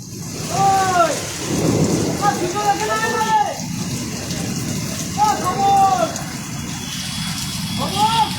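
Heavy rain pours steadily with deep rumbles mixed in, while voices talk and call out over the downpour.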